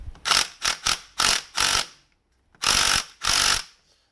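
Power tool working on a stubborn bolt of a Mercedes V12 throttle actuator: a string of short, loud mechanical rattling bursts, then a pause and two longer buzzing bursts, close up with no talking.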